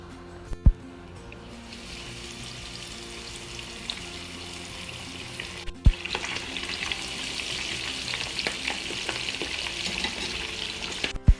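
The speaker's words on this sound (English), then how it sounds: "So the next we fry will be the fish." Fish frying in oil in a pan, giving a steady, close sizzle that grows louder and denser partway through, broken by a few sharp clatters of utensils, with no talking.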